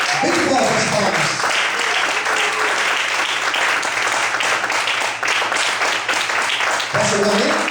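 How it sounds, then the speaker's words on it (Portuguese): A church congregation applauds strongly and steadily for several seconds at a sermon, with a voice speaking over the start and returning near the end. "Todos podem aplaudir e glorificar as palavras."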